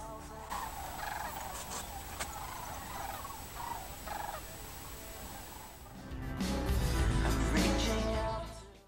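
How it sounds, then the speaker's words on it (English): A large flock of geese calls in rural central New Mexico, with honks and chatter carrying from a distance in a calm moment before a louder rumbling passage takes over near the end. "Can you hear the geese? There's tons of them."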